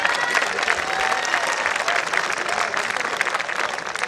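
An audience at a Hindi poetry gathering on a cold evening breaks into applause, sustained and fairly full. Scattered voices sit beneath the clapping.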